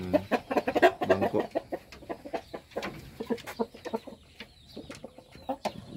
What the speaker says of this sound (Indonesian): ini ayam bangkoknya juga ya